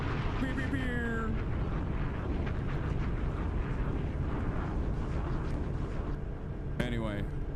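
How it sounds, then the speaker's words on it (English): A Funk Flex bomb sound effect: a falling whistle slides down into a dense, roaring explosion that rumbles on steadily, and a second whistle sweep cuts in near the end. "What's the sound? It's Funk Flex Bomb."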